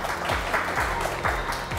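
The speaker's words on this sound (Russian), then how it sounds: "Давайте их поприветствуем и поддержим бурными овациями." An audience at a district team game show bursts into applause, a dense, loud, sustained clapping from a crowd with no talk over it.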